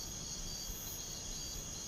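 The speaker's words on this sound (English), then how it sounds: "crickets" Crickets chirping in a quiet night setting, a faint continuous high trill held steady for the whole moment, with no voices over it.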